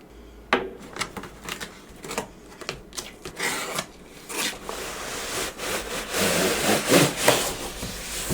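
An Amazon Basics parcel being cut open with a cutter, close scraping and rasping strokes in irregular bursts, with some louder slicing and tearing of cardboard and tape toward the end.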